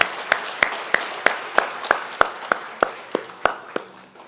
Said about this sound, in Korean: 우리 격려의 박수 부탁드리겠습니다